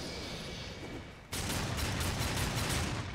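Gunfire in the video game Darksiders 2 breaks in abruptly after a quieter stretch, then continues as a loud, rapid burst of repeated shots until the end.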